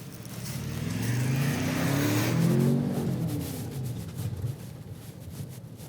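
A 2021 Ford Bronco Sport engine revs while the SUV drives off-road in four-wheel drive, swelling to a strong mid-range pull and then easing back to a steady drone.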